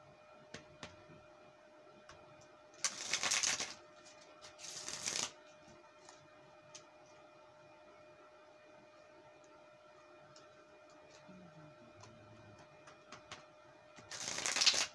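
Tarot cards are riffled in a few short crisp bursts, close and fairly loud, with quiet gaps between shuffles and no talk.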